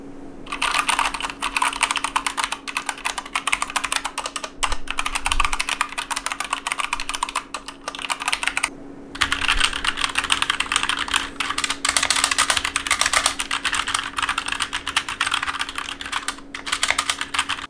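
Continuous, fairly loud typing on a Keychron K2 version 2 keyboard with Gateron switches, a close, steady clatter of keystrokes with brief pauses and no voices.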